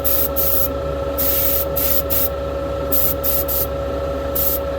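A spray gun paints a fan assembly in short repeated bursts, loud hissing blasts switching on and off in an uneven rhythm over a steady low hum.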